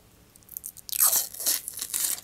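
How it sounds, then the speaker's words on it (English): Protective plastic film is peeled off a humbucker pickup on a Les Paul guitar kit. It makes a close, crinkly, crackling tear that swells for about a second and a half. "Always the best part of a build is pulling plastic off."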